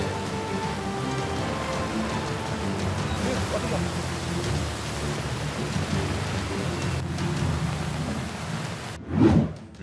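Heavy monsoon rain pours steadily as a dense, loud hiss over low rumbling, with a brief thunder-like boom near the end; speech-like sounds blend into the downpour.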